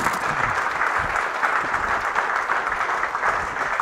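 An audience at a wood turning event claps continuously for a few seconds, a steady, even wash of many hands in a room with a faint murmur underneath.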